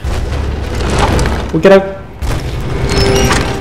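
A walking hut on chicken legs stomps with heavy, booming thuds in Rise of the Tomb Raider's Baba Yaga game, over a dense rumbling din, while someone talks over it.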